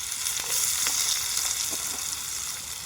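Onions fry in hot oil for a prawn gravy, a dense, steady close-up sizzle with faint stirring clicks throughout, no talking.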